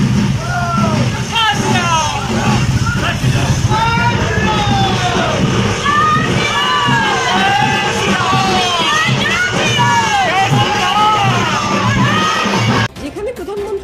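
A large crowd at a BJP procession and gathering in Bengal, with continuous loud shouting and cheering voices layered over traffic noise throughout.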